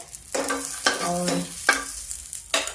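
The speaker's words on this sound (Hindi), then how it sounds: "अब देखिए इसमें हम डाल देते हैं मटर। मटर पड़ गई है" Peas go into a hot pan of cumin and chilies and are stirred, sizzling steadily while a few distinct scraping stir strokes repeat at close range.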